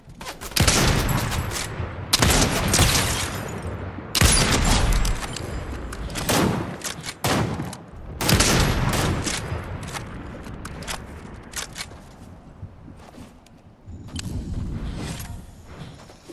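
An opponent fires in Fortnite, with loud bursts of gunfire in separate volleys and short quieter gaps between them.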